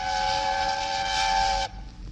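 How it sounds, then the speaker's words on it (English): A loud, sustained steam train whistle blows steadily for over a second and a half, then cuts off abruptly, leaving quiet rumble. "Presently, he heard a whistle."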